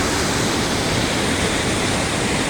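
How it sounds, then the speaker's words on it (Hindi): Steady, loud broadband rush of a waterfall pouring down in Neelam Valley, a dense, unbroken roar of falling water close by with no voices over it. "ये वो झरना जिसके बारे में हम बात करते हैं, ऊपर से भी बहता हुआ आपको दिखाऊंगा"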